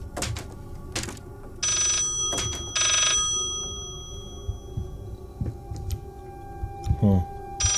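Old-fashioned telephone bell ringing in the horror game Layers of Fear, several bursts of ringing in a steady pattern at moderate distance, over ambient game sounds and someone talking.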